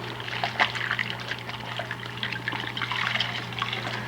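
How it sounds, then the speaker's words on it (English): Running water trickles and splashes continuously while a fridge is rinsed during cleaning, a close, fairly loud wet patter with irregular drips and a steady low hum underneath. "Rinse it."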